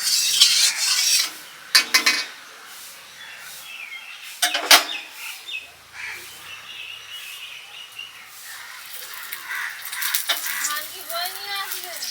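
A spatula scrapes and stirs powder in a pan at home while a chicken and paratha meal is cooked, with intermittent close scraping strokes and a few clinks, and someone speaks at times.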